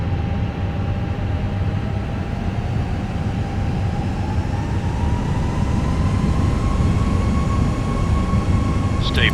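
Airliner engines spooling up during a takeoff roll in Microsoft Flight Simulator 2020 on a flight from Queenstown to Wellington, a loud, steady roar with a rising whine that climbs slowly throughout.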